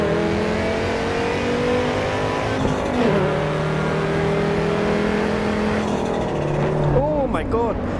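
Race cars in the Assetto Corsa EVO racing game on normal road tyres, engine droning and shifting pitch as the car slides, with a tyre squeal near the end; someone talks over it throughout.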